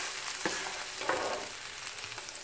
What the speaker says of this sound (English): let them sizzle for a few seconds